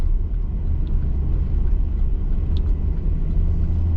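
A vehicle drives up a tall levee by the Enid Lake spillway, giving a steady low engine rumble and road noise with no break, close and fairly loud.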